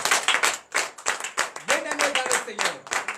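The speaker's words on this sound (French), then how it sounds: "Donnez de vive acclamation à l'Éternel." Congregation clapping at a church night prayer and deliverance service, rapid enthusiastic rhythmic claps close by, with voices calling out among them.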